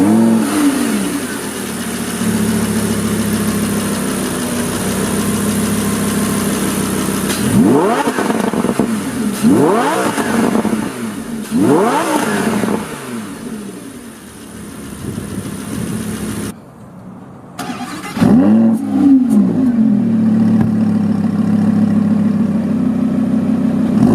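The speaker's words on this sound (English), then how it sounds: "And we'll listen to it here with the mode selector set to Corsa." A 2015 Lamborghini Huracán LP610-4 V10 in Corsa mode idles, then gives three sharp revs in a row, drops briefly to near silence and flares up once more, loud and close.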